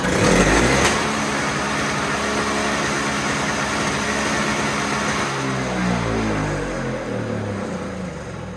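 A Toro Snow Commander single-stage snow blower that had been sitting fires up and runs with the choke fully off, a loud steady engine drone close by, its pitch wavering slightly near the end.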